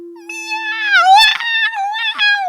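A long, wavering meow with a rising and falling pitch, loud and close, preceded by a brief steady low hum.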